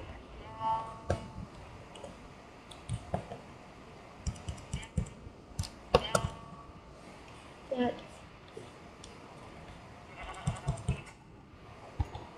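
Soft keyboard typing and mouse clicks run throughout, with a few brief Minecraft sheep bleats popping up in between.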